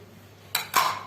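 A spoon scrapes and clatters against a metal pot while chicken shami kabab mixture with finely chopped fresh coriander is stirred, two short close knocks with no talk.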